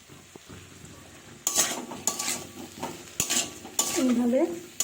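Chopped tomatoes and potatoes stirred in a frying pan, a soft background sizzle broken by several sharp spatula scrapes and clinks against the pan, close and clear, with no talking.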